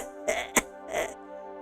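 A sick person's hoarse coughing: three short rough bursts over a steady low background tone, close and fairly loud.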